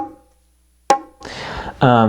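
A single sharp bongo strike that rings briefly, followed by a held, buzzy open tone with the hand left on the drumhead, giving a choked, sustained ring rather than a clean decay.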